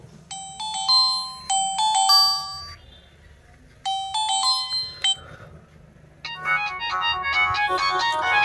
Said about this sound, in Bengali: ফোনটির রিংটোনের যে সাউন্ড সেটা বরাবরের মতোই কিন্তু একটু শুনবো